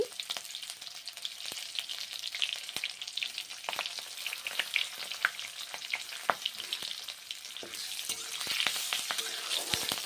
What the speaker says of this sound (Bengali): গোটা জিরে ধনে ভেজে নিচ্ছি তারপর কাঁচা লঙ্কা ভেজে নিচ্ছি